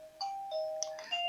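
Wireless video doorbell chime unit playing its fourth selectable tone, a short melodic sequence of clear electronic notes, close and moderately loud with no talking.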